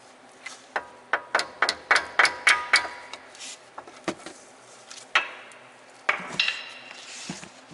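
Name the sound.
hammer lightly tapping brake pad wear sensor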